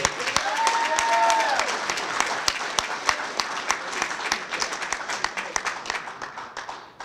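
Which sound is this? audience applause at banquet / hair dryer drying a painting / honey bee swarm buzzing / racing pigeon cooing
audience applause at banquet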